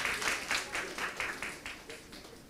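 Church congregation clapping during a Sunday worship service, a soft, rhythmic burst of hand claps in a regular beat that gradually fades, heard at a moderate distance.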